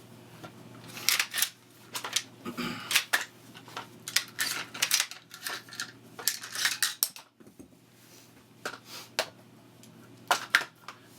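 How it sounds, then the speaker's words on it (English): A nickel boron coated bolt carrier group slides out of a rifle with a run of light metallic clicks, scrapes and rattles, close and fairly quiet, with brief pauses between handling noises. "Next is the bolt carrier. I'm going to go ahead and take that out just so I can show you guys what it looks like."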